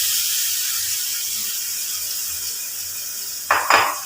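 Cockles fry in oily sambal in a pan, a steady hiss of hot oil that flares into two louder sizzling bursts near the end as they are dropped in.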